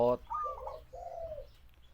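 A spotted dove gives two clear, drawn-out coos in quick succession, each a soft rolling phrase, fairly close and alone against light background hiss.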